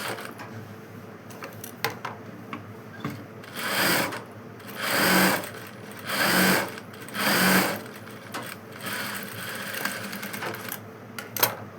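A sewing machine runs a double seam on a long frock in short close bursts, about four loud rapid stitching runs separated by quieter pauses.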